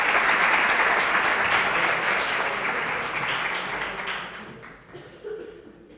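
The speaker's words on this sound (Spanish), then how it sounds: "Pido un fuerte aplauso para Guillermo" A conference audience applauds a speaker being introduced on stage, dense sustained clapping that fills the room and gradually thins out toward the end.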